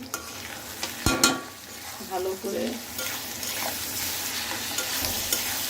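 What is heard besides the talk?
stirring and frying spice masala in a pan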